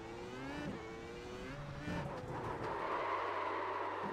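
A McLaren F1 race car engine in a video game at Monza whines and shifts pitch, revving up and down through gears as it accelerates, loud and continuous.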